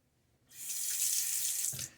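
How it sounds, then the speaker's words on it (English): A bathroom faucet runs cool water over a Wolfman WR1 safety razor for about a second and a half, with a steady, close splashing hiss that cuts off with a brief clunk. "And when I rinse my razor"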